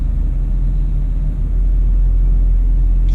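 Ford Mustang pulling away hard in Sport Plus mode, a loud, steady low engine rumble that swells slightly partway through, heard from inside the car with no talking.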